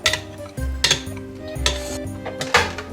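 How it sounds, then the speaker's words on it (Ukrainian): Melted butter being stirred into a whipped egg mixture in a bowl for a chocolate cherry cake batter, with a utensil clinking and scraping against the bowl in several close strokes. "Перемішуємо та додаємо до взбитої яєчної"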